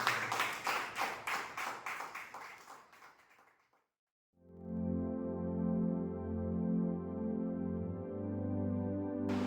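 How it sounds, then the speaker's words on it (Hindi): A church congregation at a Sunday service claps loudly together in steady rhythmic bursts, fading out before a pause; sustained music or singing with steady tones follows. "आइए एक बार हम खड़े होकर हमारे परमेश्वर की जन जोरदार एक ताली करते हैं।"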